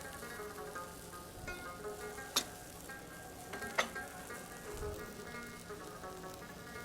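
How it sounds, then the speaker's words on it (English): Chicken soup with lemon and vegetables being stirred in a pan, a steady low sizzle and scraping with a couple of sharper clinks of the utensil against the pan. "make sure that you keep on stirring"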